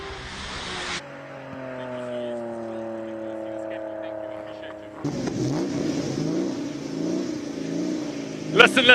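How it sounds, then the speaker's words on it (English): A Porsche 993 Carrera RS Club Sport engine revs hard as the car climbs the hill at a classic car speed event in Cape Town. The engine drones and rises steadily and clearly, with a voice talking over parts of it. "Next up, it is the Porsche 993 Carrera RS Club Sport, proudly driven by Henry"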